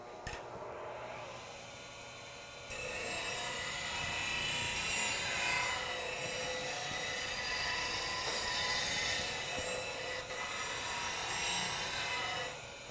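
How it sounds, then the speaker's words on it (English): A bench grinder starts up and runs steadily to sharpen a woodturning bowl gouge, a loud continuous whirring hum with a high whine that holds evenly from near the start to the end, no voices. "Turn on the grinder."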